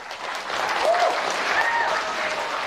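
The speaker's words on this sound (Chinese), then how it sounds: "听听什么才叫掌声" Audience applause at a Chinese crosstalk comedy show, a dense, steady wash of clapping from a large crowd that carries on without a break, with faint whistles or cheers rising now and then.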